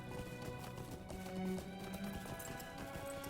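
Rhythmic clip-clop of horse hooves during riding in the video game Lord of the Rings Online, a steady trotting beat at moderate level with background music underneath and no talking.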